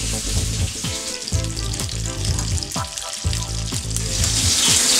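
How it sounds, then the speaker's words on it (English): A hilsa fish tail frying in hot oil makes a loud, continuous sizzle close up, with bubbling crackle throughout and occasional spatter, no talking. "The ladja takes the most amount of time to fry."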